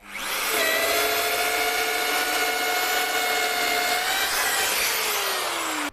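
Bosch GBH 2-28 rotary hammer drill running steadily at first speed, a loud continuous whining motor hum with strong harmonic tones that holds for several seconds and then drops slightly in pitch near the end, with no speech.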